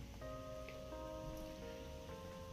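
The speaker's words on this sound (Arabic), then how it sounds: "اليوم كما كتشوفوا معي أخوتي، أجواء ممطرة بمدينة مدريد وبرد قارس كذلك" Rain falling on a cold day in Madrid, a steady even hiss of drops hitting wet surfaces with faint tonal hum in the background, no voices.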